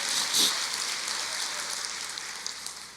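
A church congregation applauding, a steady broadband wash of clapping that runs the full length at moderate, even volume with no voices standing out.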